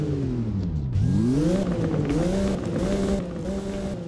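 A McLaren convertible supercar in the Roblox game Driving Empire starts and revs, its engine tone dipping then climbing in smooth rising sweeps before settling into a steady loud drone.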